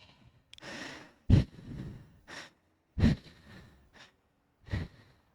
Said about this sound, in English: you're going to have to hear me breathing really heavily